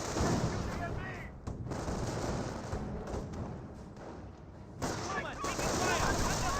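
Sustained machine gun fire from an MG in the Company of Heroes strategy game suppressing a rifle squad, rapid bursts continuing loudly throughout with brief gaps, mixed with other battlefield gunfire.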